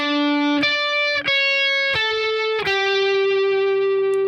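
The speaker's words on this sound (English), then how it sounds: "the lead guitar will play this part" Distorted electric guitar plays the lead line of a song, sustained fretted notes linked by hammer-ons and slides, a few clear note changes, close and loud with no talking.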